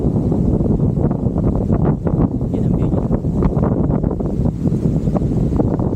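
Strong wind gusts buffet the microphone outdoors near a candle monument, a loud, rough, fluttering roar that runs throughout while someone speaks briefly over it.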